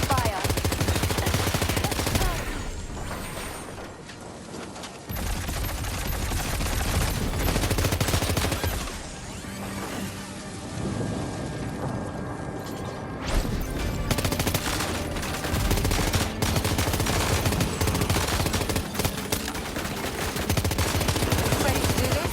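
Dense bursts of automatic gunfire and heavy explosions in a Death Stranding 2 combat scene, loud and continuous with brief lulls, mixed with game music and effects; no one speaks.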